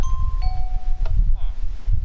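A redstone doorbell chime in Minecraft gives a couple of clean ringing tones over a low background rumble. A brief ding follows near the middle.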